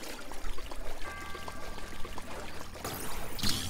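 Footsteps splashing through shallow water in Zelda: Breath of the Wild, a soft continuous sloshing and trickling, fairly quiet, with a brighter splash near the end.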